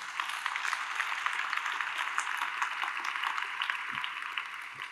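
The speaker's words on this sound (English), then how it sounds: "yeah, applause for that" Sustained audience applause at a charity gala fills the room as a dense, even wash of clapping, heard faint and somewhat distant throughout.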